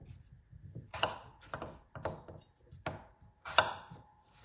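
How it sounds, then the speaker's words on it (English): A knife chops potatoes into quarters on a board, a handful of distinct, irregularly spaced thuds close by with brief pauses between cuts. "So now I'm going to just chop up the potatoes into"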